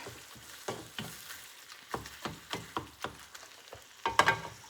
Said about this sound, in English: So we're just waiting for the ground beef to brown